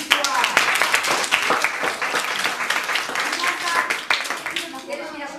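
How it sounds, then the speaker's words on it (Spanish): A group of children applauds with steady, busy clapping that runs the whole time, mixed with excited young voices calling out. "¡Un aplauso para Peti cua!"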